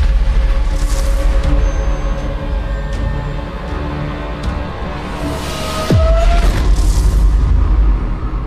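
A shot fire extinguisher exploding in the Dying Light video game: a heavy boom with a sharp falling whine, rising out of a loud, steady rumbling background.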